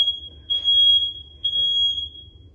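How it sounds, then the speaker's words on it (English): A smoke alarm sounds two long, shrill electronic beeps, piercing and steady, each lasting about a second over a low background hum. "how did the smoke alarm go off?"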